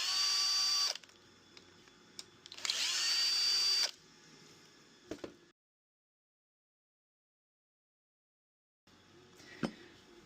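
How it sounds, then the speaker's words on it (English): A power drill whirs in two short bursts, backing out the outer Torx bolts on a GM steering column lock, followed by small metallic clicks and then silence before a faint knock. "you simply insert it into your drill or ratchet and you remove the outer bolts first"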